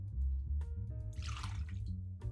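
Milk poured into condensed cream of mushroom soup, a soft liquid splash and gurgle in a bowl, close and quiet, with a brief trickle and small drips.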